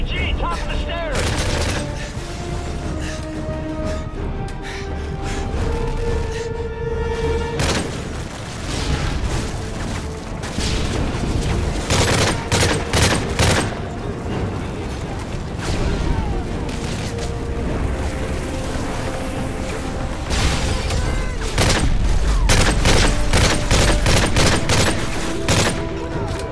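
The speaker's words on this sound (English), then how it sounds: "Toss, Chris, lay down cover fire" Dense video-game gunfire in Call of Duty covering a courtyard push: sustained bursts of automatic weapons and heavy booms, loud and continuous throughout, growing more intense toward the end, with battlefield voices mixed in.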